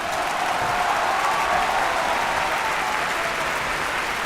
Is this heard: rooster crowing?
no